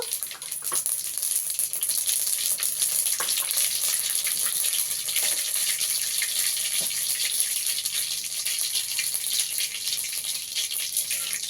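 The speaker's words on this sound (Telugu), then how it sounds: "ఇప్పుడు నూనె వేడిక్కిందండి ఒక స్పూను ఆవాలు" Mustard seeds sizzle in hot oil for an Andhra-style spinach and onion dish (palakura ullikaram), a loud, steady hiss with scattered small pops throughout and no voices.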